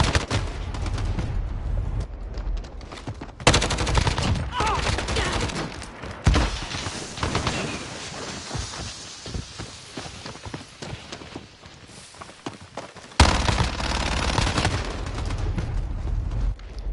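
Video game gunfire comes in bursts of rapid shots and heavy blasts, loud and close, separated by quieter stretches of game ambience, with no talking.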